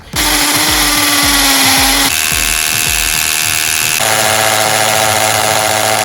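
A cordless battery drill runs continuously and loudly up close, drilling into concrete with a multipurpose bit; the whine shifts pitch twice as the load changes, with no talking.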